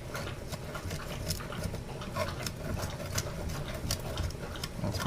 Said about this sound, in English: That's my dog drinking water out of the dish.